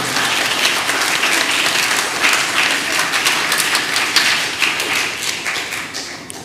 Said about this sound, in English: Could we give them a round of applause and congratulate them?